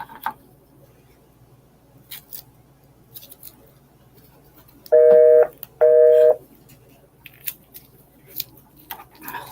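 A faulty speaker gives two loud electronic beeps about a second apart, each a steady tone lasting roughly half a second, in an otherwise quiet room with small faint clicks.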